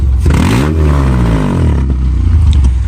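A car engine runs steadily at idle with its radiator hose strapped up and the radiator tied down, a loud, continuous close-up rumble with a brief rising rev in the middle and some clatter.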